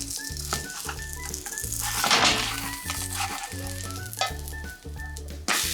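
Frozen, pre-marinated French toast sizzles steadily in a pan over low heat, a continuous close crackle with a soft background hum and no talk.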